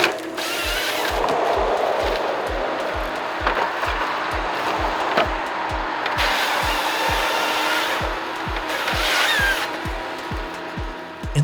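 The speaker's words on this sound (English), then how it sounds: "now drives the Scorpion King model, manufactured by Ponsse. This is a very powerful forestry machine, built specifically for harvesting timber." A Ponsse Scorpion King forestry harvester works while pine trees are cut in a forest. A close machine drone carries a fast, regular thumping pulse beneath it and continues throughout, with no talk.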